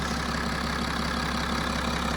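A BMW 330d xDrive diesel engine idles with a steady, even low hum and drone, close and constant with no change in pitch.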